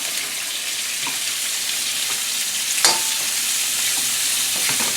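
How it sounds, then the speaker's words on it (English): Small pieces of pork fry in olive oil in a pan, giving a loud, dense, continuous sizzle with one brief clink of a utensil midway. "And I just have some olive oil in the pan. And when this pork is done"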